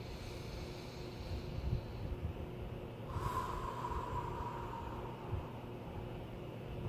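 A single slow, deep inhale taken during a calm guided relaxation exercise, a soft airy rush rising midway through steady low background noise, with no talking.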